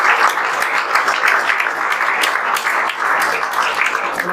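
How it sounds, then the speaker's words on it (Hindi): An audience applauds loudly and continuously for a student honoured at a JEE Main results event, a dense, even wash of many hands clapping close by. "इनके लिए जोरदार तालियां बजा"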